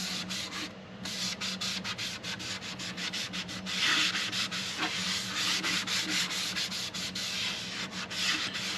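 Alcohol-based dye rubbed by hand onto a wooden mandola body, a steady, close scrubbing rasp in quick repeated strokes that continues throughout with no voices.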